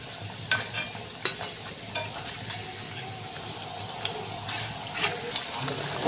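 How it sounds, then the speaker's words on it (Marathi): Cabbage vadis frying in hot oil, a low continuous bubbling sizzle broken by sharp clinks and scrapes of a utensil against the pan, close and unaccompanied by speech. "आता दुसऱ्याही वड्या मी ह्याच्यात तळून घेते"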